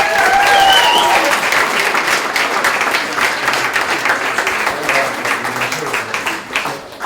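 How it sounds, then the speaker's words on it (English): An audience at a founders' business conference applauds an award winner with loud, dense clapping and a few cheers, starting full and gradually thinning into looser claps. "Can we give him a clap?"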